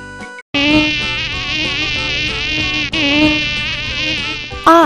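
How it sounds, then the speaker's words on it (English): Cartoon insects buzzing loudly in a steady, nasal drone with wavering pitch, pausing briefly once midway before continuing, with no speech over it. "I for insects."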